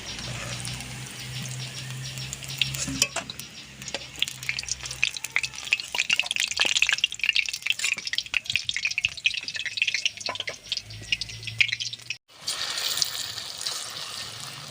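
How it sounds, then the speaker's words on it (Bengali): Potato pakoras deep-frying in hot oil, a dense crackling sizzle close up that swells and settles, with occasional stirring clatter and a brief pause near the end; no talking. "পকোড়াগুলো কত সুন্দর ভাজা হয়ে গেছে"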